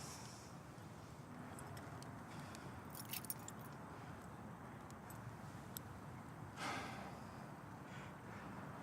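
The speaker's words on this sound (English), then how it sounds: "Keys." A bunch of keys jangles in a quiet setting, with a few brief metallic clinks over a faint, steady background hiss. The sound is soft and low in level.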